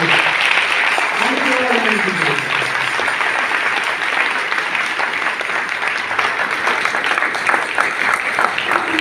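A church congregation at a farewell service for a reverend claps loudly and continuously, a dense sustained roar of hands with a voice briefly heard over it near the start.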